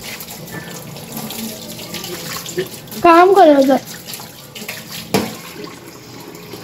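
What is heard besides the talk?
water running from a tap while cleaning a washroom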